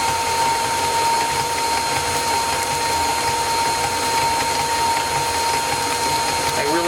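An electric mixer runs on low speed, mixing pecans into a pecan pie filling. It makes a steady, even motor whine with a faint constant tone, close and unbroken for the whole stretch.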